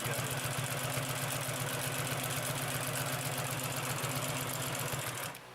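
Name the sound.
Consew P2339 double needle walking foot sewing machine stitching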